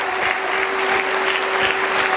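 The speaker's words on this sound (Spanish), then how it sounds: "Más fuerte esa ofrenda de palmas al Rey de Reyes" Congregation clapping at a Catholic retreat, a thick, continuous wash of many hands applauding steadily at an even level, with a faint sustained tone humming underneath.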